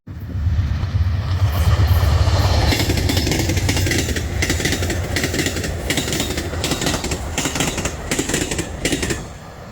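An Amtrak Crescent passenger train rumbles at speed across the Lake Pontchartrain bridge, with a heavy low roar and a regular clatter of wheels over rail joints, close and loud throughout.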